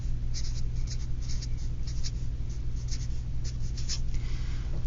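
A pen or marker scratches in short strokes as a math statement is written out, over a steady low hum. The strokes are soft and repeated, and no one speaks.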